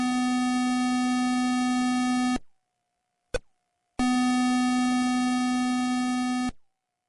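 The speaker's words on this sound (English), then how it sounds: "first video game with sound, technically" Electronic tones from the first video game with sound: two long, steady buzzy tones separated by silence and a very short blip in between.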